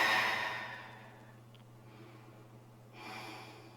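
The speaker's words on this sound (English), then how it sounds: "Big breath in and out." A slow, deep yoga breath during a yin and flow session, a strong airy exhale fading away, then a soft inhale rising again near the end, close and alone over a low steady hum.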